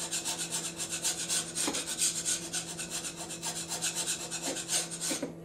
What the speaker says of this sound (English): It makes a really good scraper. And then you can get in there. You can take the paint off.